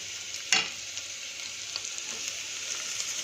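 Chopped carrots sizzling in a pan for Manchow soup: a steady, soft frying hiss with a brief louder clatter near the start and faint stirring scrapes afterward.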